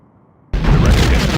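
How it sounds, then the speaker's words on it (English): A photon torpedo is fired and explodes in the Star Trek: The Next Generation game A Final Unity: one loud, sudden burst that rings on for almost a second before cutting off, heard alone. "Fire. Torpedo away."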